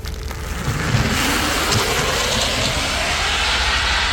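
A Tesla Model S Plaid launching at full acceleration, a steady, loud whooshing roar of motor whine and rushing wind that swells after the first half second and holds strong to the end.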